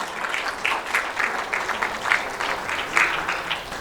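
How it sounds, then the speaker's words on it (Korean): Applause from the audience at a policy forum on peaceful coexistence on the Korean Peninsula, a lively flurry of many overlapping claps with slight swells, moderately loud and without talk. "세 분을 위해서 또 박수 부탁드리겠습니다"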